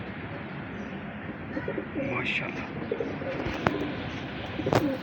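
A pigeon coos softly close by, with a few short bird calls breaking through while someone talks over it throughout.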